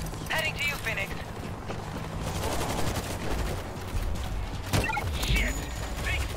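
Rapid automatic gunfire from an auto turret in World War Z, crackling in bursts amid game noise and music, with a voice talking over the shots.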